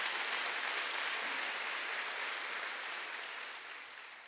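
Church congregation applauding, a dense, even clapping that sounds soft and slightly distant. It holds steady for a few seconds before tapering off at the end.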